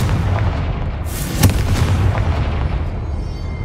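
A Confringo fire spell explodes in Hogwarts Legacy, a sharp blast bursting over a dense rumbling bed of game sound before fading into a steady roar.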